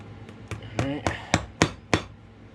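Hammer blows on a shoe being refurbished with rubber half soles and heels, about seven sharp, evenly spaced knocks, close and loud, with a brief tonal ring on one strike.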